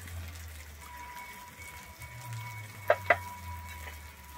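Ground cumin, coriander, chilli powder and a little turmeric fry in a pan for palak paneer, making a low, steady sizzle under a faint hum, broken near the end by two sharp clicks.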